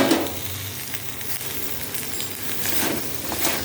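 Pre-fried vegetables for malai shukto go into a pan of reduced spice masala, producing a broad continuous sizzling hiss with slight swells, steady and moderately loud with no voices.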